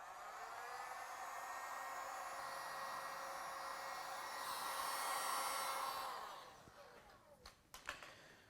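A heat gun blows steadily on a dented car door panel, a loud even whirring hiss that winds down and cuts off near the end, followed by a few light clicks and handling noises.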